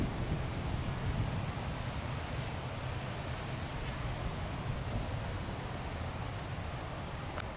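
Wind blowing from the northwest near an airport approach on a day with a wind advisory, a steady broadband rushing roar against the microphone that stays constant throughout with no voices.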